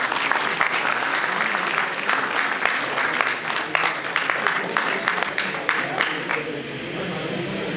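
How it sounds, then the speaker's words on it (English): Sustained applause from a large crowd at an alumni talk, dense clapping that holds steady for several seconds before thinning slightly at the end. "Please welcome her with a huge round of applause"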